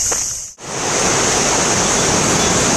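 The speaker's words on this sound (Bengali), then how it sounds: "এই জলের আওয়াজে কথা কিন্তু ঠিক মতো শোনা যাচ্ছে না।" Fast-flowing Kameng river in spate rushes loudly as a steady, broadband roar near a Bhalukpong view point, with a brief dip before the torrent sound resumes unbroken and dominant.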